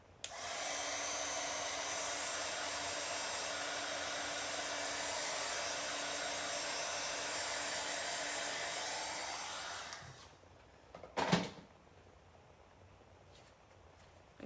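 Handheld hair dryer blows at full power for about ten seconds, a loud, steady whoosh that cuts off abruptly, followed by a brief clatter and then near silence.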